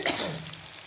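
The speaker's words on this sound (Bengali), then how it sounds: "আর এখানে পেঁয়াজের বেরেস্তা করছি, কারণ আজকে একদম চিকেন করব" Onions frying in oil for beresta, a close, steady sizzle with a brief stirring clatter at the start, no voices.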